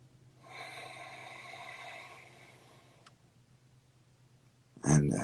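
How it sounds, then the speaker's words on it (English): One long, deep breath drawn in slowly during a guided meditation, close and soft with an airy, nasal hiss, followed after a quiet pause by a brief sharper burst of sound at the end. "and exhale. And inhale"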